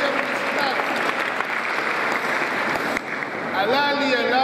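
Audience applause at a town patronal festival in Coronel Moldes, a dense steady clapping that fills the clip with crowd noise and voices mixed in, easing slightly near the end.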